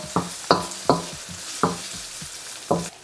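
Garlic sautéing with translucent onions in a pan for beef caldereta, a soft steady sizzle punctuated by repeated scraping stirs of a utensil against the pan, close and distinct with no talking.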